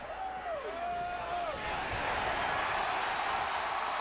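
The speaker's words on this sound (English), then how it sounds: "the crowd's reaction says it all" A stadium crowd in Missoula roars steadily after a game-tying 32-yard field goal at a college football game, broad loud crowd noise building and holding, with a commentator's voice briefly heard at the start.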